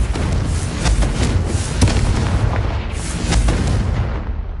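A Confringo fire spell in Hogwarts Legacy, heard as a dense run of loud, booming blasts with sharp crackling bursts over a continuous rumble, with no one talking.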